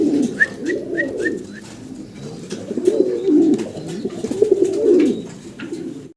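A pigeon coos in repeated low, throaty rolling phrases, close and clear, with a few faint chirps early on and no talking.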